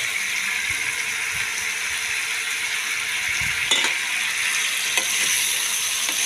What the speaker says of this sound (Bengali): আমি এবার বড়াগুলো দিয়ে একটু কষাবো